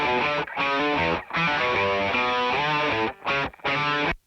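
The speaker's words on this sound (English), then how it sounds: "There's my Les Paul Custom with humbuckers," Les Paul Custom with humbuckers playing a loud, thick electric guitar riff, sustained harmonic chords broken by a few short rhythmic gaps, with no voices over it.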